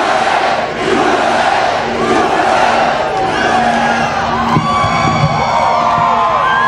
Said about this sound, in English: Obviously, he's inspiring the crowd, as he usually does, cheering and all that other stuff.